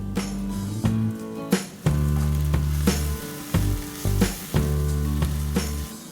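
Garlic, ginger and green onion sizzle in hot flavored oil in a pan, with a steady frying hiss broken by repeated stirring scrapes and clacks at an uneven rhythm.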